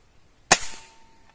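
A single sharp crack from a Hatsan HT135 gas ram air rifle fired at a can thirty metres away, close and loud, followed by a brief fading echo.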